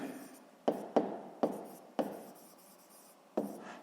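Pen writing on paper while working a sixth-grade geometry area problem: several sharp tapping strokes with soft scratching between them, close by and clear against a quiet background.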